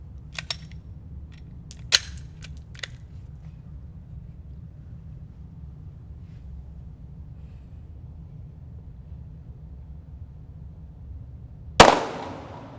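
Handgun fired at a shooting range: a few sharp, distant-sounding reports early on, then a long quiet stretch before one loud, close shot near the end.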